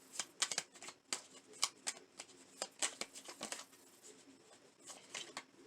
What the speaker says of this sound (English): let's get a few message cards out here